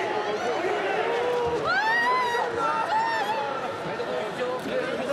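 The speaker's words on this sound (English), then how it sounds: "The crowds are cheering President Moon Jae-in." A crowd outdoors cheering and calling out for South Korean President Moon Jae-in, a dense sustained roar of many voices with rising shouts and whistles, steady and fairly near throughout.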